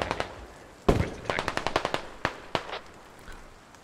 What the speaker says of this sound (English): I need this PKM laying down fire